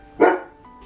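A single short dog bark, close and fairly loud, heard alone with a quiet room behind it while a Bredli carpet python is handled.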